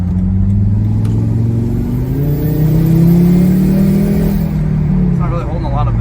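A Volvo V70R wagon's turbocharged engine revs up in long rising sweeps, steady and close, with a boost leak in the intake; a voice is faintly present near the end.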